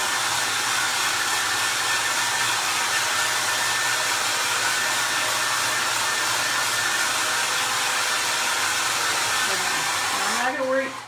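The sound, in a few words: hair dryer running while drying a craft project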